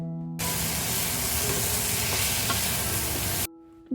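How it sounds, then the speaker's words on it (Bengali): Capsicum, carrot and tomato stir-fried for chowmein give a loud, steady sizzle that starts abruptly and cuts off sharply, close up, with faint stirring clicks and no talk. "ওই ক্যাপসিকাম গাজর টমেটো সব কিছু ভালো করে ভেজে নিচ্ছি"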